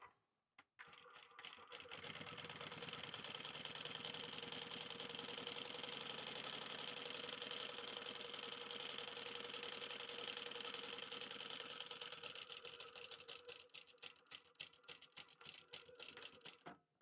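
A sewing machine runs a steady quarter-inch seam at regular stitch length across a sling bag's zipper panel, then shifts into short, rhythmic bursts as it backstitches at the end; loud and close, with no talking.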